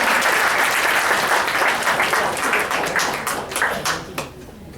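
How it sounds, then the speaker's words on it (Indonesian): An audience gives the MC a round of applause during a Prudential insurance session, with brisk, dense clapping that gradually thins into scattered individual claps at the end. "Tepuk tangan buat MC kita ya"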